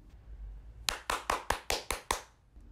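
Seven crisp hand claps sound in an even rhythm, close and clear against a quiet background, like a small applause effect in an audiobook reading.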